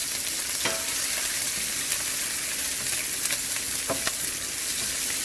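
Onion, green chili and red chili fry in hot oil for poha, a steady close sizzle hissing throughout, broken by a few sharp clicks of a spatula stirring the pan, with no talking.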